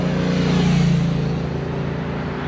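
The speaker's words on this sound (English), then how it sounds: "you may not be able to hear me because I'm having to speak over the cars" Steady, loud roar of cars passing in city traffic at a Houston intersection, a continuous close rumble of engines and tyres with no pauses.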